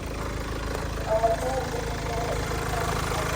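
A 2016 Kia Sorento 2.2 turbo diesel 4WD idles steadily with an even, low rumble and clatter, the engine running close by while someone talks over it.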